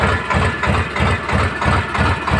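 A tractor engine idles close by, loud and steady, with a regular chugging pulse of about three or four beats per second and no talk over it.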